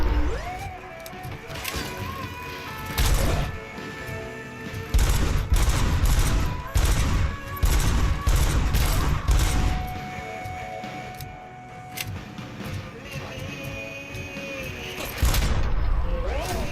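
Robocop: Rogue City combat brings near-continuous heavy gunfire, loud and close, with crashing impacts and bursts of automatic fire. Voices break in now and then.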